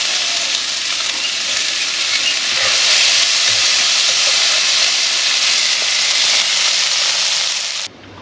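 Small-diced carrots and beans fry in a pan for Bengali-style fried rice, giving a loud, continuous sizzling hiss that stays even throughout and cuts off abruptly near the end.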